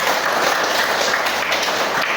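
Pupils in a classroom clap together on the teacher's request, a loud, dense, continuous patter of many small hands close by, filling the moment without talk.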